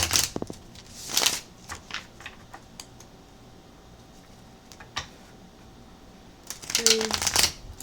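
Tarot cards being shuffled in several short bursts of riffling and snapping, close and fairly quiet, separated by a stretch of near-silent room tone, with a final flurry at the end.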